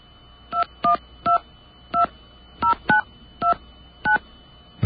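Nine short DTMF telephone keypad tones ring out one at a time in an uneven rhythm while a number is dialed with a 1 in front of it, clear and isolated over a faint steady hum.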